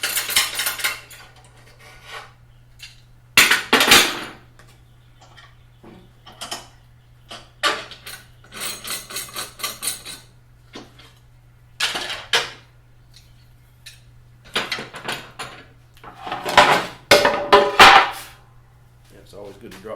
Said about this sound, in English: I'm going to take the clamps off of it and pull this off here